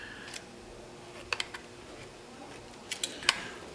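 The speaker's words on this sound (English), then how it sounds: "put my zip tie in the slot and I just pull it, and then it cuts it as well as tightens it for me" A zip tie tool pulling a zip tie tight in its slot and then snipping it off, used while building a tricopter: a few small, sharp clicks and snaps spread over a few seconds, close and fairly quiet, with no talking.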